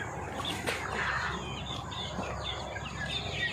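Chickens in a coop on a farm that raises them on maggot feed, with scattered clucks and chirps over a steady, busy background hum, close and moderately loud.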